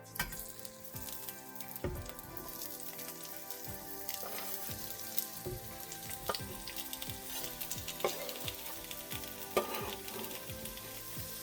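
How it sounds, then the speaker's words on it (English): Peppers sautéing in a pan: close, crackling sizzle with scattered pops and occasional utensil knocks and stirring scrapes, steady throughout and with no talk. "I'm just gonna saute the peppers"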